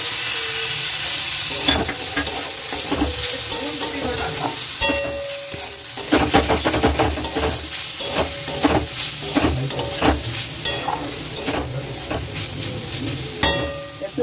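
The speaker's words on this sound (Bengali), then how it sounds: "তারপরে রসুন কুচি দিয়ে দেবো, পেঁয়াজ দিয়ে দেবো" Chopped garlic and onion hit hot oil in a pan for chili garlic cauliflower, a loud steady sizzle broken by repeated scraping and stirring clatters of a spatula.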